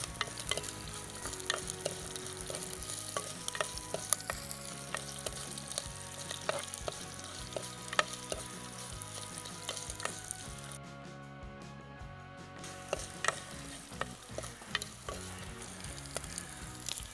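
Three slit green chillies fry in oil in a pan for a Kerala buttermilk curry, giving a continuous soft sizzle broken by frequent scraping clicks of a spoon stirring, close up and with no talking.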